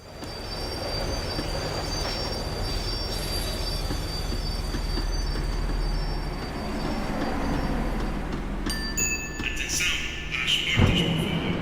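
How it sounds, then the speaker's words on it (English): A tram in the video game Max Payne 3 slows down, its wheels squealing and grinding on the rails over a heavy rumble, growing harsher before a sharp metallic clank near the end. "The tram was slowing down, and I'd only just gotten on board."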